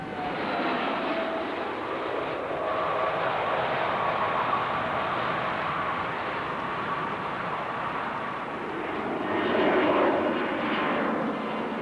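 An Airbus A310 jet airliner in flight produces a steady, broad engine roar that holds evenly throughout, swelling slightly near the end, heard continuously with no voices.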